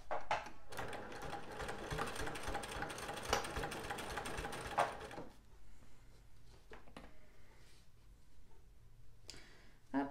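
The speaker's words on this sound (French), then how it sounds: "on fait une petite surpiqûre à 1 ou 2 mm des bords" A domestic sewing machine topstitching 1 to 2 mm from the fabric edges of a patchwork pouch with a 2.5 stitch length, running in a steady close whir for about five seconds, then stopping, followed by faint handling sounds.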